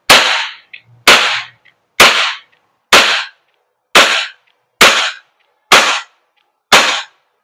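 A WE Glock 34 Force Series T5 airsoft gas blowback pistol fires eight sharp, evenly spaced cracks, close and loud, each with a short snappy decay and near silence between shots.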